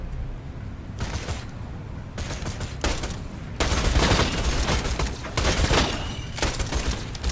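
Rail gun fire in the shooter Borderlands 2, a dense loud crackling barrage that comes in repeated bursts and grows heavier and more continuous toward the end.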